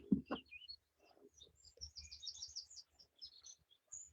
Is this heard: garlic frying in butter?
no